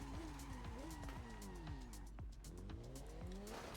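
Engine whine with shifting pitch and tire skid sounds as a motorcycle slows and brakes in The Crew Motorfest racing game, with game-like vehicle noise throughout.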